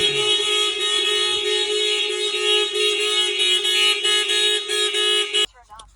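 A Mitsubishi Outlander horn blasts from a Starline alarm system, one sustained loud honk lasting over five seconds, then cutting off abruptly, with a brief chirp afterward.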